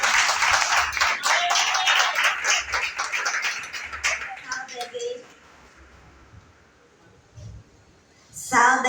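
Congregation clapping along during a church praise service, rhythmic claps under singing voices for about five seconds before fading to quieter murmurs and a brief final burst.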